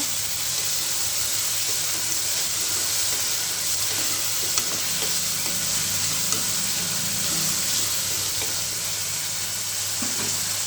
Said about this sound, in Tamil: தக்காளி இஞ்சி பூட்டி சேர்த்துப்போம் நல்லா வதக்கிக்கோங்க